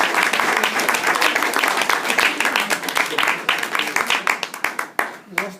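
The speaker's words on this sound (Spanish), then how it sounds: "Por favor, despídanlo. Un aplauso." Audience applauding a harpist after a concert-lecture on the harp, full sustained clapping that gradually thins into scattered individual claps before fading, with a voice briefly audible at the end.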